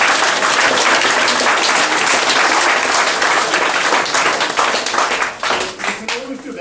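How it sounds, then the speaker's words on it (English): Football fans at a Halesowen Town FC end-of-season awards night break into loud, close clapping that thins and tapers off over several seconds. "You deserve to give yourself an applause now"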